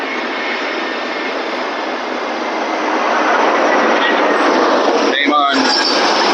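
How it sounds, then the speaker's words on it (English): An airplane passes overhead as a broad, steady roar that swells slightly louder toward the end, heard alone without speech. "Plane."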